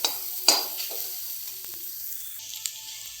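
Potato bharta sautés in a pan with a soft background sizzle. A few scraping stirs come early on and a light clink follows later, with no talking.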